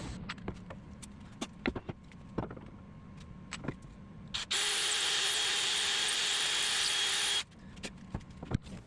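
A power drill whirs steadily for about three seconds, drilling a pilot hole through manzanita wood into a post, preceded and followed by scattered clicks and knocks of handling wood.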